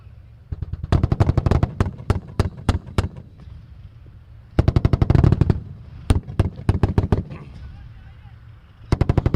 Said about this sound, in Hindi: लगातार फायरिंग और गोले जो है बरसा रहे हैं।